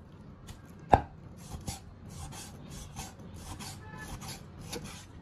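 Lean meat being chopped with a knife for a squid-ball filling: one sharp, loud chop followed by a steady run of lighter, close cuts, with no talking.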